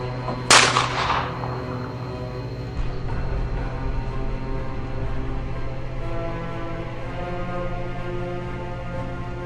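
A single sharp gunshot cracks loudly near the start during a tense armed confrontation in a Nigerian cartel drama, then a low steady drone and faint scene noise carry on without further shots.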